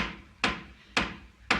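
Three firm knocks on a wooden door, evenly spaced about half a second apart, each a sharp, close, resonant thud that decays quickly, heard on its own without voices.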